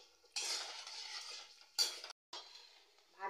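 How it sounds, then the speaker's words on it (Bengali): Lentils being stir-fried in hot oil in a pan while snack mix is made at home. A spoon or spatula scrapes and stirs in bursts, with a quiet sizzle under it and a short pause partway through. "ডালগুলো ভেজে নিচ্ছি"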